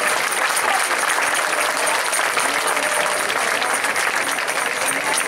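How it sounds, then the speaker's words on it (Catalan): Crowd applause at a folk dance festival, an even, loud, continuous wash of many hands clapping with no pauses. "Voldria un gran aplaudiment pels tres"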